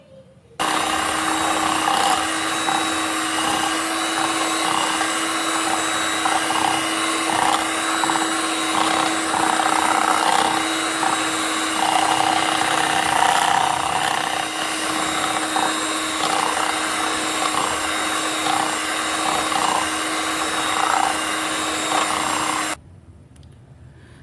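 An electric mixer drones steadily as it beats oil and sugar together for cake batter, a loud continuous whir with slight wobbles in pitch, cutting off abruptly near the end.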